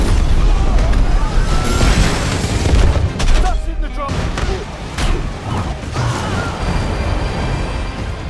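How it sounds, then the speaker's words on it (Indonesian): Heavy, continuous gunfire from a fighter jet in an action film, dense loud bursts running throughout with booming impacts, layered under speech and score. "Setelah itu pesawat tempur milik kelompok Victor langsung memberikan tembakan bertubi-tubi."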